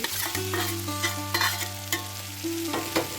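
Fried potatoes being stirred into spiced, sautéed peas for Bengali ghugni, with steady sizzling under repeated scraping strokes of a spoon against the pan, close and fairly loud, no voices.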